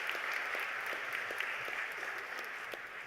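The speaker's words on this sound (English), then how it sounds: "How about a round of applause for the family court?" Steady applause from a large audience at a New York State of the Judiciary address, honoring the family court: dense, even clapping that holds throughout without pause.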